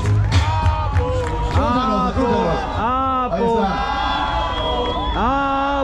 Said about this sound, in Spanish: Un fuerte aplauso para Apocalipsis, por favor.